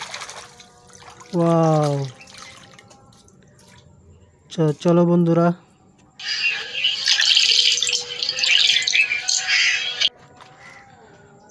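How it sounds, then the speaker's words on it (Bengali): Tap water runs in a steady hiss for several seconds while toy vehicles are washed. A voice speaks briefly just before it starts. "কত সুন্দর পানির আওয়াজ, দেখতে পাচ্ছ তোমরা?"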